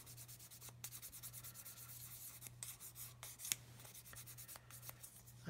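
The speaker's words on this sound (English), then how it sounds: "get my sanding stick, got the fine side here" Quiet, steady scratchy rubbing of a fine sanding stick over a hard plastic 1/32 Spitfire Mk Vb model, repeated short strokes with a low background hum.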